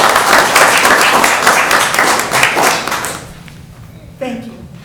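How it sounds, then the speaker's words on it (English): Applause breaks out at a town council meeting, a loud patter of many hands clapping that fades after about three seconds, followed by a brief voice. "Well, Kate needs an applause."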